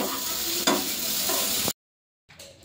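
Food cooking in a pan at home gives a steady close sizzle with stirring scrapes for almost two seconds, then cuts off abruptly before a faint return.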